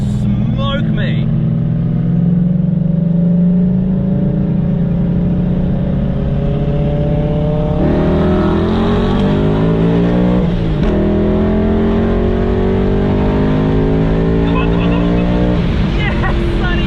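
An HTE-tuned V8 BMW M5 idles loudly at a drag race as its turbos spool, a deep steady engine drone that rises in pitch as the revs build, heard close with people talking over it.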